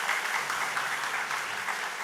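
A church congregation claps together during a sermon, a steady wash of applause that fills the whole moment.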